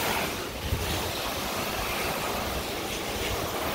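Steady broadband rush of a pressure washer spraying soap through a fan-pattern nozzle onto a roof, loud and continuous with no breaks.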